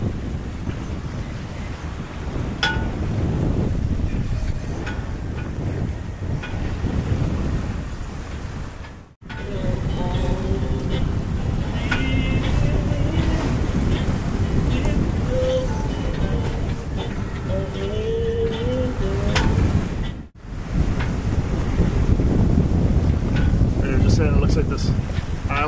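A sailboat runs under sail off Isola di Ponza, Italy, with a steady roar of wind buffeting the microphone and the rush of water and waves along the hull, loud and continuous with two brief dropouts.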